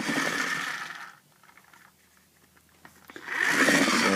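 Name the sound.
Imaginext Bane sled toy revving up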